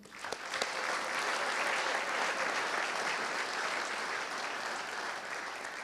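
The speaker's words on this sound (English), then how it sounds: "I want to give you guys a round of applause as well" Applause from the audience at the Jack Buck Sports Awards in St. Louis, a broad, even roll of many hands clapping, heard at moderate distance and sustained without break.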